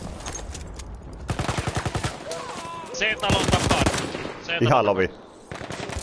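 Rapid bursts of automatic gunfire from the World War I shooter Battlefield 1, loud and repeated in several volleys, while players talk over it in Finnish during a competitive match.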